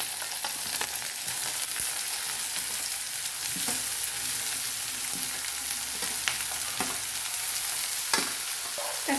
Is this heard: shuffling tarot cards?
no